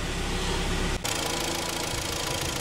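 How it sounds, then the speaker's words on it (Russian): A Hyundai ix35 with the G4KD engine idles steadily up close, a fine rapid ticking from the fuel injectors running over the even hum, with a brief dropout partway through. "Штатная работа двигателя, за исключением тикания форсунок."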